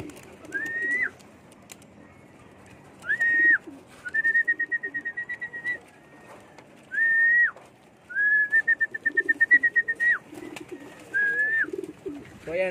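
Pigeons in a loft give a run of clear, close cooing and whistling calls in repeated bursts with short pauses between them, with no talk over them.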